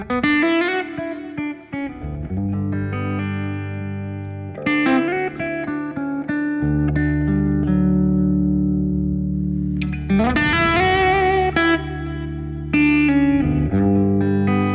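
A sustained electric guitar blues phrase played several times with changing expression, bends and vibrato, ringing with effects and reverb, steady and fairly loud.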